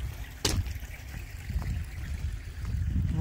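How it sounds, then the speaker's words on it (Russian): Spring meltwater streams rush steadily outdoors, a faint continuous trickling wash over a low rumbling background. "Реки текут."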